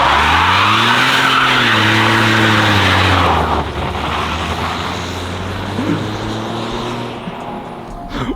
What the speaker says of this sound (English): A one-wheeled burnout